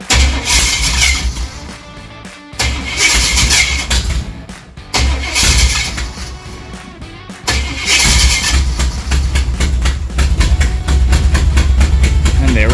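A rebuilt 1978 Jeep J10/J20 engine cranks and catches with carburetor fuel, cranking in loud bursts broken by brief pauses before it settles into a steady, loud, close running roar.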